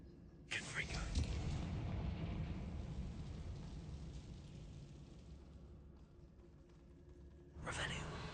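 A Confringo blasting spell explosion in a video game erupts as a deep, rumbling boom that swells and slowly decays, followed by a second loud burst at the end.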